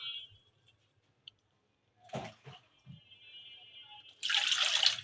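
Fish are soaked in water: a few faint splashes and sloshes, then a louder rush of water pouring into a container near the end, with quiet gaps between.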